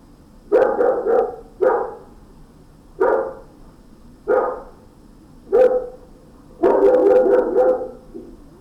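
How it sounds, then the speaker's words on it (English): A dog barks six times, nearby and fairly loud, with short gaps between barks and a longer final bark. "And the dog for this sound."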